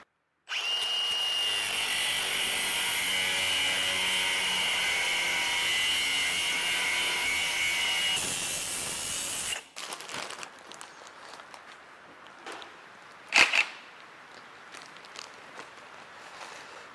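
A Sawzall reciprocating saw cuts through a steel part on a cattle squeeze chute, a loud sustained buzzing whine for about nine seconds, then stopping, followed by quieter clanks and one sharp metallic knock.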